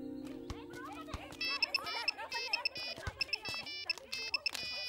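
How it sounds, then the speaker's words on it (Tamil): A phone rings with a repeating electronic ringtone melody, short bright tonal phrases recurring every half second or so, over a busy background of voices and other sound. "ஃபோன் வந்திருக்கு"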